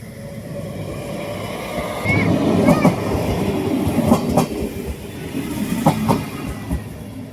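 A train rolls along a railway beside a station near the beach in Denmark, its wheels and carriages rumbling steadily with a few sharp clacks and squeals, over continuous background noise.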